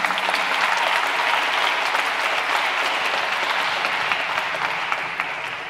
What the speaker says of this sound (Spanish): Otro aplauso dominicano